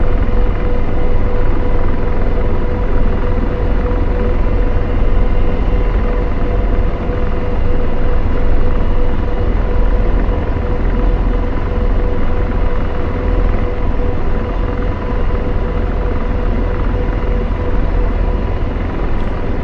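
An AH-64D Apache helicopter taxis in the DCS flight simulator, its turbine whine and rotor drone loud, steady and continuous throughout with no pauses.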